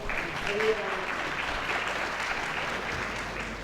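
A conference audience at a Pakistan-Poland cultural relations session gives a brief, steady round of applause, a continuous even clatter of many hands with some voices mixed in.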